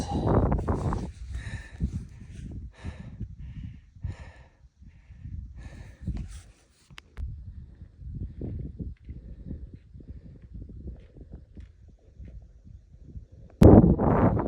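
Steady gusting wind buffets the microphone in low rumbling bursts atop a high mountain pass, with a sharper blast near the end.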